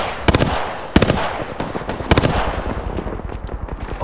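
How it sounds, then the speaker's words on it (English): Automatic weapons fire in Apex Legends comes in several rapid, loud bursts of tightly spaced shots, separated by short pauses and followed by lighter scattered pops. "Opening fire on the enemy."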